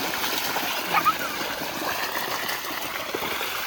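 Water splashes and sprays from a spout near old stones in a village yard, a bright, continuous spattering with a brief louder burst. A child and an adult talk over it.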